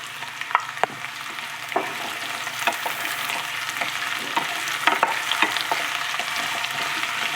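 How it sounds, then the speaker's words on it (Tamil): Onion and chopped bottle gourd fry in a pan for a Tamil buttermilk curry, a steady close sizzle broken by sharp scrapes and clicks of stirring, with no voices. "கொஞ்சம் நல்லா பொன்னிறமாக வறுந்து வரட்டும்"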